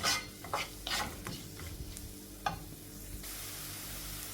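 Onions, curry leaves and green chillies sauté in a pan, with a constant soft sizzle under repeated stirring scrapes and light clinks of a spoon against the pan, close by.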